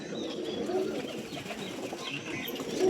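Punjabi pigeons cooing softly in a loft, low burbling calls repeating through faint background noise, with a slight flutter of wings.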